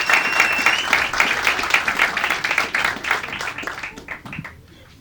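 Stand-up comedy crowd applauding the comedian Rafael Tibério, a dense, loud wash of clapping that holds steady and then thins out and fades near the end.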